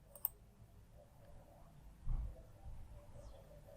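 A computer mouse clicks once, sharp and close, on a download button in a quiet room, followed by faint desk handling and low room noise.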